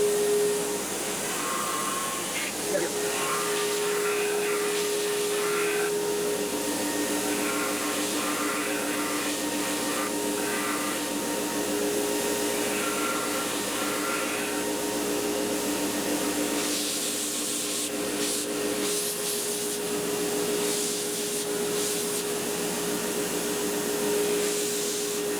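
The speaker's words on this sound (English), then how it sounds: "But now it's time to get busy with the deadhead sander." A deadhead sander working Fender-style comfort contours into a guitar body, a loud steady motor whir with hissing abrasive friction held for the whole stretch, pitch wavering slightly as pressure changes.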